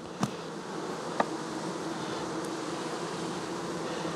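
Honey bees, with drones among them, buzz at an open hive as a faint, steady hum, with a few brief closer passes standing out.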